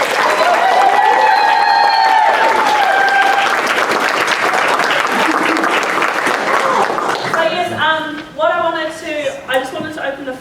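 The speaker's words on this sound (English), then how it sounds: "big round of applause to these two again, please go." An audience at a Seed Waikato speaker event gives two presenters a big round of applause with whoops and cheers, the clapping loud and steady before it thins as a voice starts talking near the end.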